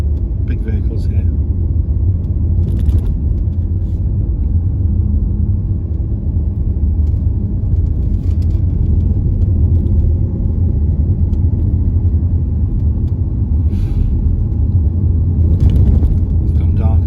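A car moving slowly along a narrow, tree-lined country lane near Cromer, with a steady low engine and road rumble throughout and a voice talking over it intermittently.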